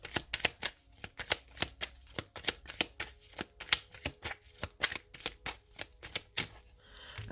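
Oracle cards being shuffled and drawn, a rapid, even run of crisp card flicks and riffles close up for several seconds, ending with a softer rustle.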